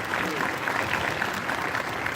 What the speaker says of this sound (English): let's clap up for Mom